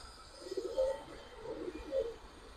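Giribaz and colored pigeons coo softly in a low, rounded rhythm, two brief swells of cooing over a faint background hum.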